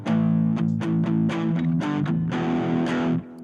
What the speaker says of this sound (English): We've got these things called power chords, which sound like this.